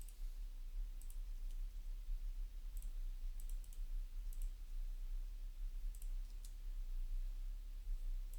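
Light computer clicks land in scattered small clusters over a steady low hum during software configuration, faint and close with no talking.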